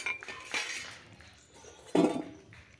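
Potatoes tumble into a pot of spicy chicken cooking over an outdoor wood fire, giving a short clattering knock and clink against the metal, with softer stirring sounds before it.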